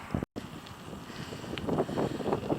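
Wind buffets the microphone of a cyclist riding a bike on a cold day, a loud continuous rumbling roar with gusty swells and one brief dropout near the start.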